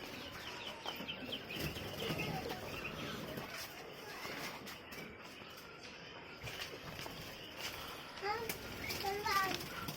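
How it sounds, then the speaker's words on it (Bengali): Many birds calling outdoors at a quail farm in the early morning, a busy layer of chirps and clucks with occasional children's voices mixed in. "বাইরে অনেক পাখি"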